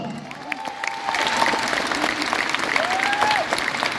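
A crowd applauds for André Limousin at a Miss Corso gala evening in Firminy, steady clapping that swells after the first second, with a few whistled or voiced tones rising above it.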